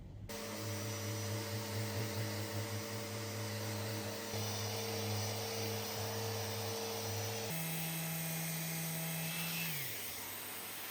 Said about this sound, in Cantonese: 或者我自己會用一個細嘅磨機去磨